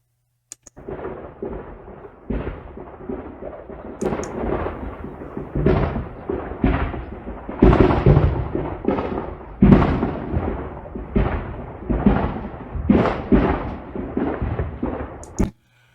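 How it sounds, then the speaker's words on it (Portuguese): An ammunition depot exploding, heard from a distance: a long run of irregular booming secondary detonations, some heavy and rolling, others sharp cracks, coming in close succession with no pause for about fifteen seconds. "Claramente um depósito de munição explodindo, né, as detonações secundárias ali no depósito"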